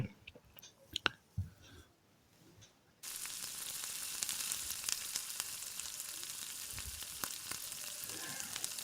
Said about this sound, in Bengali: গ্যাসের ফ্লেমটা লো রেখে বেসনটাকে মিশিয়ে নিতে হবে কন্টিনিউয়াস আপনাদের নেড়ে যেতে হবে যাতে বেসনটা লাম্পস না ফর্ম করে